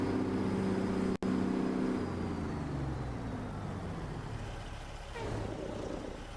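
A heavy truck engine in American Truck Simulator idles with a steady low rumble, then winds down and fades as it shuts off, with a brief dropout early on and a faint hiss near the end.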